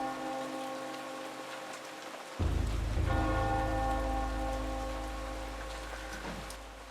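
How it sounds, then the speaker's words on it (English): A bell rung in the game Eternal Darkness, one deep resonant strike that booms over steady rain-like ambience, with a second fainter strike following, its hum lingering. "Ring that bell."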